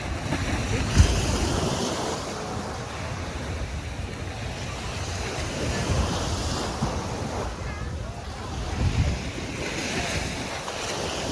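Sea waves washing onto Boracay beach, a steady broadband surf roar with rolling swells and gusts of wind noise on the microphone throughout.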